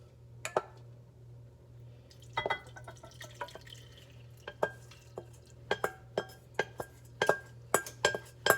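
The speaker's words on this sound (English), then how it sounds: "Now I'm going to go ahead and transfer that into this pan right here" Mixture being scooped and scraped from a bowl into a baking pan in a kitchen, with a string of sharp clinks and taps of utensil on glass and metal, irregular and close, over a steady low hum.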